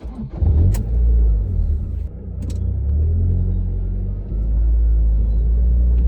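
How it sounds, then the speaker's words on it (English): A Ford Fiesta ST150 fitted with an aftermarket roll restrictor torque mount is driven along, its engine producing a steady low rumble with mild revving swells and road noise, heard from close by without talk. "we're just going to go for a little drive and see if we can actually see the movement of the engine while we're driving"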